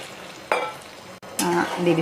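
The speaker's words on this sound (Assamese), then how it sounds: "এতিয়া মই ইয়াতে পানী দি দিছোঁ" Water hits a pan of sizzling mutton curry with tomatoes, setting off two sharp bursts of hissing sizzle between calmer frying, close and fairly loud, with a voice briefly audible.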